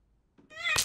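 A cat in a TV series lets out a single short, rising cry that swells sharply into a loud, harsh yowl, preceded by a faint thump.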